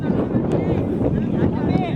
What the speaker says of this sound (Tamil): காற்று பலமாக அடிக்குது.